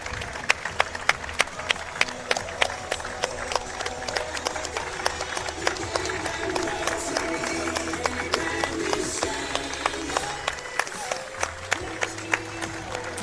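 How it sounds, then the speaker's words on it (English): Crowd at a Tulip Time Festival parade honouring Vietnam veterans in Holland, Michigan, applauding steadily, with sharp individual claps standing out over a continuous murmur and low rumble nearby. "And a round of applause."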